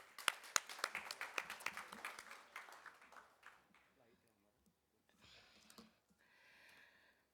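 An audience at an administrative gathering claps in a burst of loud, close applause that thins out and fades over a few seconds, followed by quieter background sounds.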